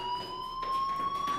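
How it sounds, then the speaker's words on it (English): Fire alarm in the video game Life is Strange, a sustained piercing electronic tone ringing steadily and loudly for a brief stretch, with no voices. "Hey, do you hear that fire alarm?"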